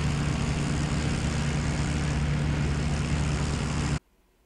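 A Ju 88 bomber's propeller engines in the IL-2 Battle flight game, a loud, steady droning hum from close by that cuts off abruptly near the end, leaving faint quiet.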